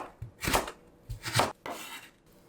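A knife julienning a third of a carrot on a cutting board for Korean white jjamppong: three quick bursts of close, crisp chopping strokes separated by short pauses, with no voices.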